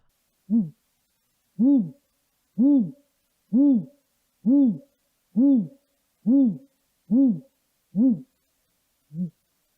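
Great grey owl giving a slow series of about ten deep, evenly spaced hoots roughly one per second, close and clear in silence, the last note softer.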